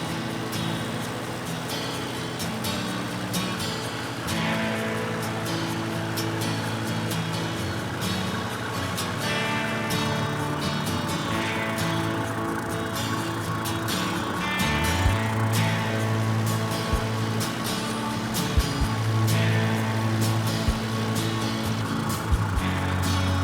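A tractor mowing down a thick, filled-in new hay field gives a steady, continuous engine drone that holds evenly throughout, with a deeper rumble joining in partway through.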